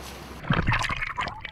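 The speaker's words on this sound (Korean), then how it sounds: "깊은 바닷속 해녀를 만나러 물속으로 뛰어듭니다" A photographer in a wetsuit plunges into deep sea water off Jeju to photograph haenyeo divers, giving a close, brief burst of splashing and bubbling that breaks a quiet lead-in and then churns and gurgles.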